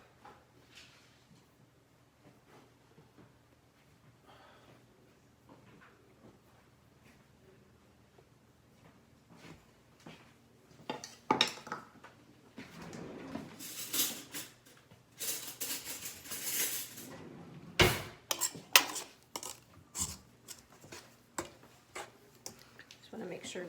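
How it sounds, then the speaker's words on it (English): Spoons scrape and tap against a bowl while thick cake batter for vinaterta layers gets mixed, the clicks growing louder and busier partway through, with a quiet room behind. "we'll just mix it a little bit with our spoons"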